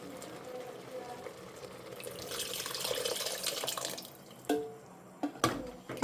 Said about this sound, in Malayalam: അതിലേക്ക് കുറച്ച് പുളി ഒഴിക്കും കേട്ടോ.